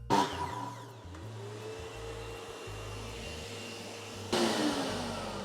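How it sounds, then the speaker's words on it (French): A workshop vacuum switched on by a miter saw runs as a steady whining drone, with a louder surge of motor noise near the end, close and alone without talk. "quand je démarre la scie, ça démarre l'aspirateur, ça l'arrête"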